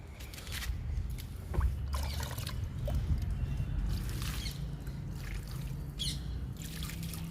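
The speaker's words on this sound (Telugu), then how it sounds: "ఈ స్పైడర్ లిల్లీకి వాటర్ ఇచ్చేద్దాము" Water poured from a can or mug onto the soil of a spider lily planted in a tub, a soft trickling and splashing running steadily for several seconds, close by, with faint birds in the background.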